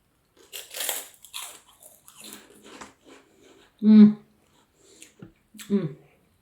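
Someone bites into Tesco plant-based prawn crackers, giving a loud, close crunch and then softer chewing crackles, between stretches of talk.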